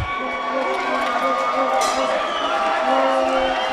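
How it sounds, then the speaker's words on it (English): A boxing crowd roars and cheers continuously, with sustained horn tones droning through the noise, applause, and fans shouting and chanting in the mix. "You hear the horns, you hear the applause, you hear the fans chanting for their fighters."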